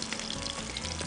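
Salmon searing in a hot frying pan, a continuous close sizzle and crackle of fish cooking in oil, steady and moderately loud with no talking.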